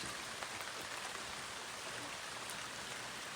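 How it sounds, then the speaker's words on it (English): Heavy rain pours down outside in a continuous, dense hiss, steady and unbroken throughout with no voices. "That's a lot of rain coming down."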